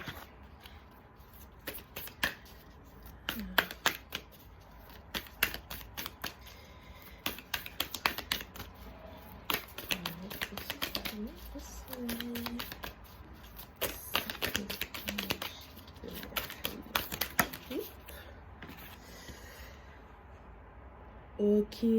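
Tarot cards are shuffled and drawn for a reading, producing rapid, close flurries of crisp card riffles and snaps in irregular bursts, with a faint voice at the end.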